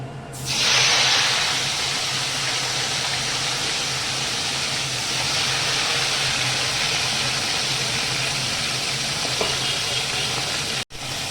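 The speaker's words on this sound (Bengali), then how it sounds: "তেল গরম হয়ে গেছে কড়াই, এবার মাছ ছেড়ে দিচ্ছি" A live magur catfish drops into a hot oiled kadai and fries with a loud, steady sizzle and hiss that runs unbroken for several seconds, with faint spattering crackles.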